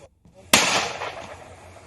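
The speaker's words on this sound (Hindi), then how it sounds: "पुलिस ने भी जवाबी फायर किया है। गोलियों की आवाज सुनिए।" A single sharp gunshot-like crack rings out during a police encounter with gangsters in Jalandhar, Punjab, with a sudden loud onset and a long echoing decay, preceded by brief low background noise.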